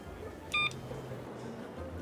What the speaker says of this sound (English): Another car phone.